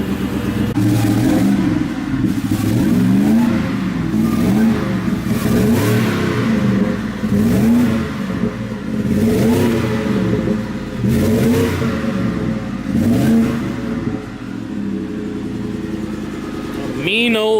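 A Cobra car engine running on E85 while warming up, rumbling steadily near the microphone with repeated rhythmic revs rising and falling about every second, and a voice heard briefly near the end.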